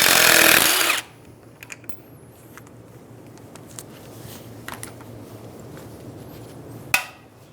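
A power tool whirs loudly for about a second while removing the front strut top nut on a 2010–2014 Subaru Outback, then cuts off to a quiet shop backdrop with faint clicks and one short sharp knock near the end.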